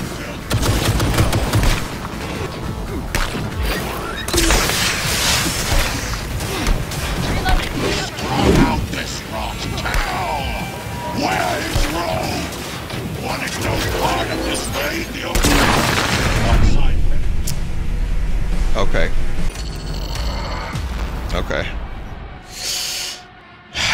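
Cyberpunk 2077 combat: repeated missile explosions and bursts of gunfire crash and boom across a long chaotic stretch, loud and dense, with hissing blasts and someone talking over parts of it.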